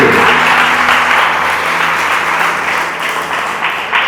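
Church congregation applauding during a sermon, a loud, sustained wash of clapping that gradually eases off over a few seconds.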